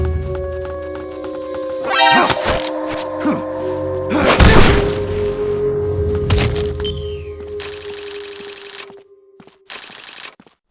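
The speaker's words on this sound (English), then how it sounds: "You hear that? Gunshots!" Gunfire in Metal Gear Solid Peace Walker on PSP: a few sharp, loud booming shots and thuds in the first half, ringing over a steady droning game score, then fading into quieter tonal bursts.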